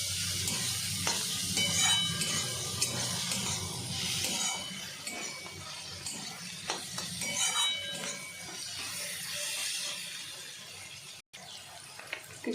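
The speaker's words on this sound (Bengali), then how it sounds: "সবজির সাথে এটা নাড়াচাড়া করে নেব।" Maggi noodles with vegetables and two packets of Maggi masala are stirred in a pan, giving a steady sizzle and frying hiss with scraping and clinking of the utensil against the pan through the whole stretch.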